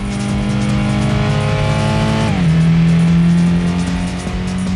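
Race car in Gran Turismo 2 roaring loud at high revs, the engine note climbing steadily, then dropping sharply at a gear change and holding a steady, lower drone.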